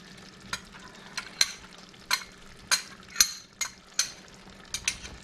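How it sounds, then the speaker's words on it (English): Eggplant and fish fry in a pan with scallions while a utensil scrapes and stirs in about nine sharp, close strokes over a low, steady sizzle. "we're still cooking this eggplant and fry fish"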